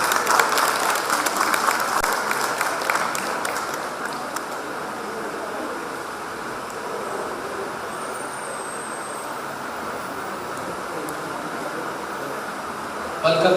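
Audience applause welcoming the panel chair at a two-day international conference, a sustained wash of clapping from a sizable crowd that gradually thins, moderately loud in a large hall.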